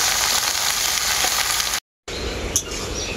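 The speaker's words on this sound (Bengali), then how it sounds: "সবজিটাকে এখন আমি খুব ভালো করে নাড়াচাড়া করে নেব" Mixed vegetables (potato, ridge gourd, eggplant, Malabar spinach, pumpkin, beans) stir-fried in a pan, giving a steady close sizzle and frying hiss with a brief gap and a light clink of the spatula near the end.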